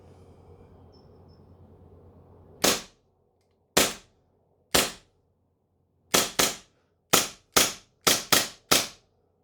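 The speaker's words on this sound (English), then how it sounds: "So that's 10 more shots" A CO2-powered airsoft BB gun fires ten sharp, loud cracks, close by. The early shots are widely spaced and the later ones come in quicker clusters, over a faint steady hiss at the start.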